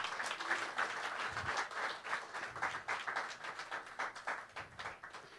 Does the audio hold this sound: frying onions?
no